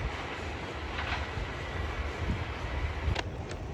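The Millat Express passes Karsaz railway station as a low, steady rolling rumble heard from some distance, with a few faint clicks of wheels over rail joints.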